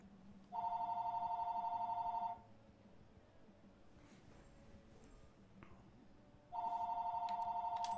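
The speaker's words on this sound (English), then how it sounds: "And the phone's ringing." A telephone rings in two long electronic bursts separated by a quiet pause, fairly close and steady in tone.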